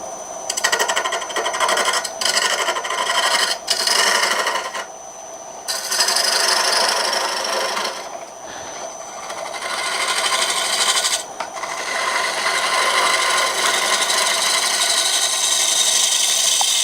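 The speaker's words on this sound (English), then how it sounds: "I'm going to go ahead and get a tenon turned on this." A lathe tool cuts a tenon on natural edge mesquite wood, producing a continuous rough scraping and rasping with brief pauses between passes, close and steady, with no speech.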